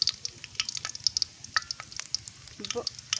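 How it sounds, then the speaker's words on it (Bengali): Bay leaves and small cardamom sizzle in hot oil over a clay stove while mutton and radish curry is made, with continuous crackling and sharp irregular pops close by and a brief voice near the end. "তেজপাতা দিয়ে দিই ছোটো এলাচ"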